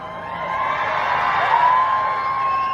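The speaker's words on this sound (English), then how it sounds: "We have an amazing crowd" Crowd at the Def Leppard star ceremony on the Hollywood Walk of Fame, a steady outdoor wash of cheering and whooping, moderately loud and sustained.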